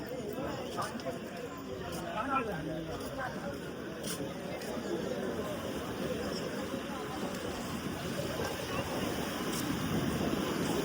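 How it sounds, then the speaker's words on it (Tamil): Steady wash of sea surf rolling onto the shore at Keerimalai beach, Jaffna, Sri Lanka, with wind buffeting the microphone and faint distant chatter underneath. "இதுதான் கடற்கரை, கீரிமலை கடற்கரை."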